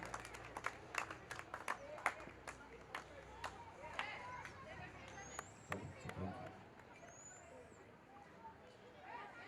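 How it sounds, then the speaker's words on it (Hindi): Scattered, uneven hand clapping from a crowd greets wrestlers at an outdoor dangal wrestling tournament in Udaipur, with someone talking over the crowd through a loudspeaker and background chatter. "सभी पहलवान तालियां बजाकर अभिनंदन स्वागत करें।"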